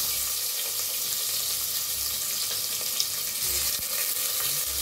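Chopped onion sizzling in hot oil with cumin, mustard seeds and asafoetida for Maharashtrian masale bhaat, a steady bright crackling hiss throughout with occasional stirring clinks, close and continuous, no voices.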